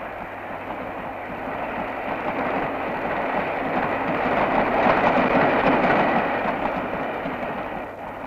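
A track measuring railcar rolls past on a Soviet railway line in 1985, a loud, steady rumbling roar with faint rail clatter that builds slightly toward the middle and holds.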